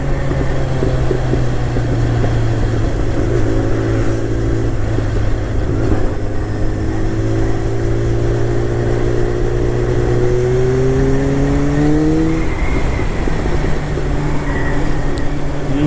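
A car engine with a popping fault revs up: a loud, steady idle climbs gradually in pitch over several seconds, then drops back to idle, close by and without talk.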